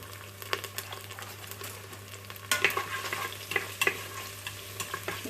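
Half a brown onion fries in a pan for dhansak dhal, a soft steady sizzle broken by scrapes and clicks of stirring that grow louder partway through, no voices.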